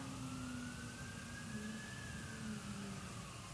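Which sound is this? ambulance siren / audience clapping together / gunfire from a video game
ambulance siren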